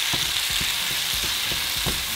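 Burrito filling seasoned with oregano, cumin and crushed chili cooking in a pan, a steady close sizzle with a few soft stirring scrapes spaced through it, no voices.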